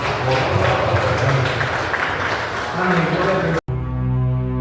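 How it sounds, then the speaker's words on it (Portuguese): A church congregation claps together during a family worship service, a dense, steady wash of applause that cuts off abruptly near the end and gives way to a sustained tone. "Que as palmas louvam o nome do Senhor."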